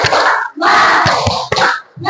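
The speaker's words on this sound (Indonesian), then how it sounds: "Tepuk semangat." A school class does a rhythmic spirit clap (tepuk semangat) together, with loud group clapping in short bursts separated by brief pauses and shouted group voices mixed in.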